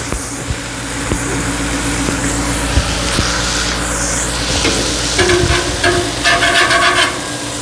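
Smashburgers topped with pepper jack cheese sizzle loudly and steadily on a Blackstone griddle, with occasional scraping and clinking of a spatula over the continuous frying hiss and no voices.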